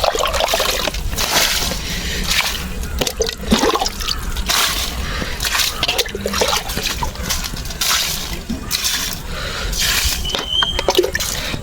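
Water pours and splashes steadily while plants are watered in a hot village garden, a continuous close gushing and trickling that lasts throughout with no clear pauses.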